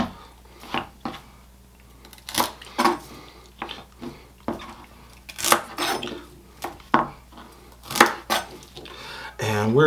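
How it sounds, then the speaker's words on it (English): Knife cutting the ends off one or two celery stalks on a cutting board, a series of sharp, close taps and chops at irregular intervals. "take 1 or 2 stalks of celery here and cut the ends off"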